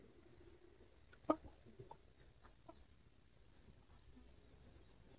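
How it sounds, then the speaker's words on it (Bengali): A large Sonali chicken clucks on a farm in a few faint, scattered calls, one sharper cluck standing out early against a quiet background. "মাশাআল্লাহ দেখতে পাচ্ছেন কত বড় আমাদের একটা সোনালী মুরগি"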